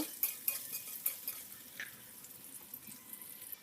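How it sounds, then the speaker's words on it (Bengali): Onions, garlic and chilies frying in a pan, heard as a faint, steady sizzle with soft, irregular spatula scrapes and light clinks, quiet and without voices. "আমি এটাকে ভালো করে একটু ভেজে নেব"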